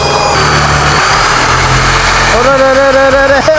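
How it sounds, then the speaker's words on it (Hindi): An electric drill bores a hole through a piece of wood, its motor whining loudly and shifting pitch as it presses into the workpiece, with a steadier high tone rising toward the end. "मैं सिंपली अपने लकड़ी के टुकड़े को रख सकता हूँ और इसको प्रेस कर सकता हूँ इसमें होल करने के लिए।"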